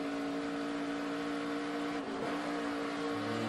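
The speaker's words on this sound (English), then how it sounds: "You can hear him get out of the throttle there to avoid the conflict." A race car engine at a NASCAR Nationwide race drones loudly and steadily, with a brief dip in pitch as the throttle is lifted before the steady roar returns.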